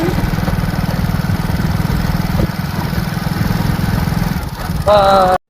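A motorbike engine running close by, a steady loud buzzing idle that holds for several seconds before a brief sharper whine at the end.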